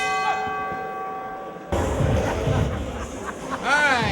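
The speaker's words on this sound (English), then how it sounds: "we're getting down to round two, and that's going to be coming up with the bell" A boxing round bell rings with a sustained metallic tone at a championship bout, then a crowd erupts into loud cheering and hubbub, with a brief whistle-like sweep near the end.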